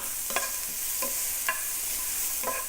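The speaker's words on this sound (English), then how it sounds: "And we're going to saute this lightly." Fresh garlic sautés lightly in a pan over medium heat for Korean ssamjang dipping sauce, a steady soft sizzle broken by a few spaced utensil scrapes and stirs.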